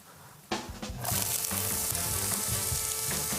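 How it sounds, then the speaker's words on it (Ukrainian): Loud, steady sizzling of onions frying in a hot pan for a tomato sauce, starting abruptly after a brief quiet moment and continuing with crackles and pops. "О, здається, час смажити. Спочатку цибуля."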